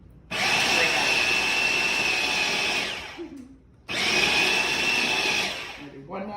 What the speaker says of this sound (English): we're just gonna pulse a couple times to let it mix through because we don't want all the chips to break up